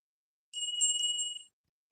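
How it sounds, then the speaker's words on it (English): A single ring of a small bell at a sobriety celebration, a clear bright chime with steady high ringing tones that sustains for about a second before stopping abruptly, heard alone in a quiet room. "I'm going to ring the bell for Magiza celebrating 5 months of sobriety."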